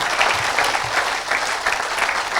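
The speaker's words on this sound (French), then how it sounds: "Acclame pour Jésus." Church congregation at a healing service clapping together, dense continuous applause filling the room at full loudness, with no distinct voices.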